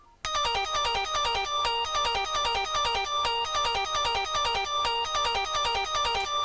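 Bright electronic synth arpeggio repeats fast plucked notes in a steady, looping pattern, loud and alone without any voices.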